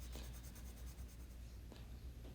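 Coloured pencil shading on paper, held at a low angle so more of the lead's side rubs the surface: a dry, continuous scratchy scraping with rhythmic back-and-forth strokes, close and steady, with no talk.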